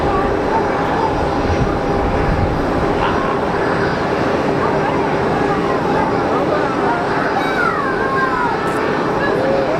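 An airliner pushes back at Geneva Airport, heard as a steady loud broadband roar of aircraft engines and ground equipment filling the whole scene, with faint tonal whines and voices underneath.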